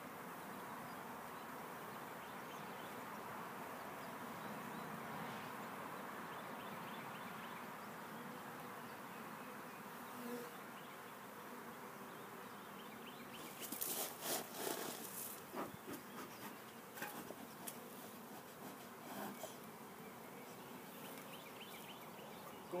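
Bees in an opened beehive drone in a steady, dense hum throughout, with brief rustling and handling knocks near the end.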